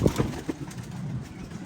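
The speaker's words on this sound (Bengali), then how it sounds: "তো আরো কয়েকটা কবুতর দেখাচ্ছি গাইস" Soft, low pigeon coos sound close by in a few quick throaty pulses, followed by a muffled murmuring hum.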